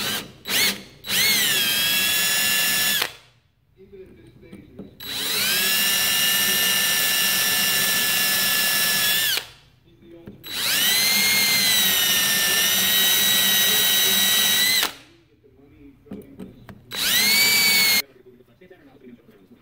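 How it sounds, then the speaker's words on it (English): A small drill bit runs in a power drill boring out a post on a Predator 420cc engine, loud whining bursts of several seconds each separated by short pauses. "I'm gonna try to drill that out with a little drill bit"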